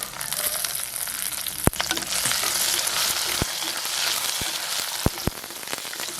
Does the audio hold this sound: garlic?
yes